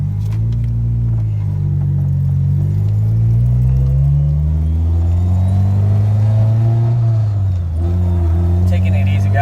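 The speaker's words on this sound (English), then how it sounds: "Going for the first test drive in the EKK2 hatch with the 6-speed." A Honda Civic EK hatchback with a swapped K24A2 engine and six-speed gearbox drives along, its loud, close engine drone rising and falling through gear changes as a low rumble fills the cabin.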